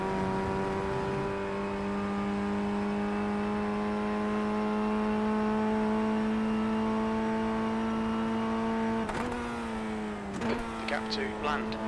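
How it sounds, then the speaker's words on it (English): Formula Ford 1600 race car engine at Lime Rock in iRacing holds a steady high drone, then blips and shifts sharply near the end, with a voice talking over it. "We just need to rev match, blip the throttle, and it will just click into gear."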